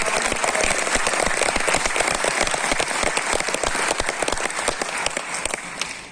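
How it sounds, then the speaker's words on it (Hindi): A large audience claps loudly and continuously to welcome the chairperson of LIC of India at Science City, dense sharp claps sustained throughout and easing slightly at the end. "immediate जोरदार तालियां।"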